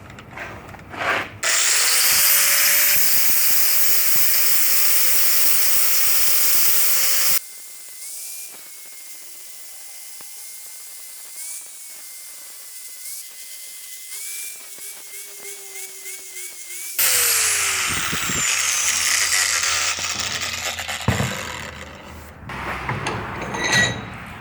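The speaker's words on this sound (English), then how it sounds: "switched over to a flap disc." Angle grinder fitted with a flap disc sanding a swivel jaw bench vise during restoration: loud high whine in two long bursts separated by a quieter stretch of scattered handling and faint tool noise, close.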